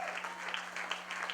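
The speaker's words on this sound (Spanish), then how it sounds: "déle ese fuerte aplauso al Rey de Reyes y Señor de Señor" Congregation in a church service applauding in praise, a steady wash of many hands clapping with a low hum beneath, moderately loud throughout the short burst.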